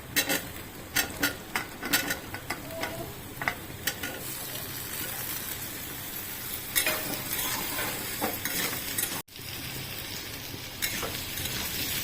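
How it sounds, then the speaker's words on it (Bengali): Diced potatoes and onions fry in a pan on a gas stove, a steady sizzle broken by repeated scraping stirs of a spatula, close and fairly loud with a brief dropout near the end. "ডুমো ডুমো করে কেটে রাখা আলু দিয়ে দেবো গ্যাস একসাথে ভাজবো"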